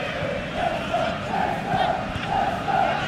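Simulated stadium crowd in the football game eFootball PES 2021 during a Leicester City vs Arsenal Premier League match, a steady loud roar with rhythmic rising chants and swells throughout.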